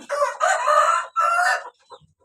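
Bangkok chickens in a coop, where a rooster gives a loud, near crow in two long phrases, followed by a couple of short clucks as it fades out.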